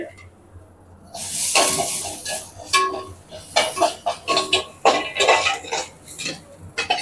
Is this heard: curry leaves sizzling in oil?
yes